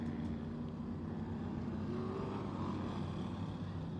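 A stock race car roars at Bowman Gray Stadium on a short track, a loud continuous engine drone with a rising tone as it passes near.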